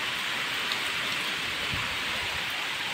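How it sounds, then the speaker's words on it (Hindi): Heavy rain pours steadily and loudly, a dense continuous hiss of drops striking surfaces with no pauses, close and enveloping, with no voices. "देखो केते जोरे पवन हो बापरे कि वर्षा"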